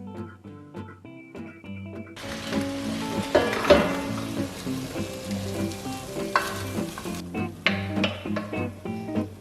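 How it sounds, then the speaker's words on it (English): Vegetables soften in melted butter in a pan, and a bright, crackling sizzle surges for several seconds between quieter stretches, with soft background music throughout. "I used a little bit of butter and just softened the veggies up"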